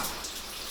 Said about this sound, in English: I will just wash the leaves.